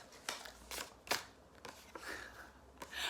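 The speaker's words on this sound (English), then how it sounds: "Please let me just handle this piece of paper." A sheet of paper is handled close by, with several crisp rustles and crinkles separated by short pauses.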